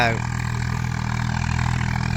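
Tractor engine running at a steady, loud, low-pitched idle during rotavator work and wheat sowing, heard close up as a continuous drone.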